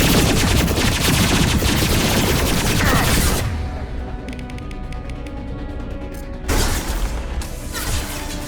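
A hacked turret fires rapid automatic bursts during an assault on the Geth headquarters in Mass Effect 2, loud and continuous at first, then dropping away before a second close burst of gunfire.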